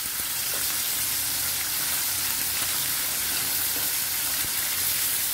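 Onion frying in a pan as the base for a Filipino fish soup, a steady close broadband sizzle and crackle running unbroken throughout with no talking.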